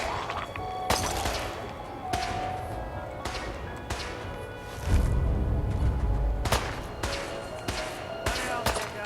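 A robot fires in Fallout 4's Far Harbor: several sharp, loud shots come at irregular intervals, with a deep rumbling blast midway through.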